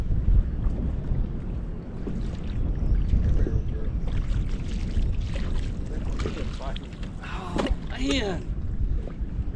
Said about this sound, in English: the wind's blowing me back